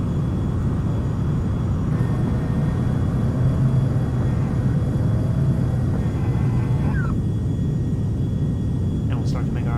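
A Carenado 390 Premier 1A business jet climbs after takeoff in X-Plane 11, its engines a steady, loud rumbling drone that holds even for the whole stretch.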